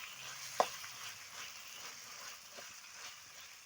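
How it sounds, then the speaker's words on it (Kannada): Chana dal palya with green chilli fries quietly in a pan, making a faint, even sizzle with a single small clack near the start. "ಇದನ್ನು ಚಂದಾಗಿದ್ರೊಳಗೆ ಫ್ರೈ ಹಾಕ್ಬೇಕು ರೀ"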